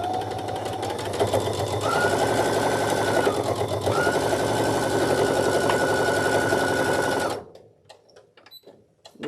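A sewing machine runs a continuous stitch down a seam on a scrap-fabric mug rug, a steady close mechanical whir lasting several seconds before stopping, followed by faint handling noises.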